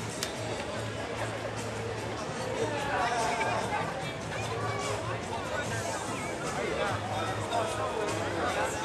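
Steady babble of a large crowd gathered on an island at night, many overlapping voices blending into a continuous hubbub with occasional nearer talk and shifting footsteps.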